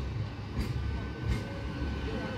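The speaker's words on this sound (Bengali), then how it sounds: "লোকাল ট্রেনটি হুগলি রেলওয়ে স্টেশন অভিমুখে যাচ্ছে।" A local train in eastern India runs towards Hooghly railway station, its steady rumble filling the scene. Two softer rhythmic rail thumps rise from the low drone as the wheels pass, with no talk.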